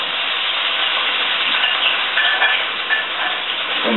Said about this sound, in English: So we're going to be sauteing, basically frying the potatoes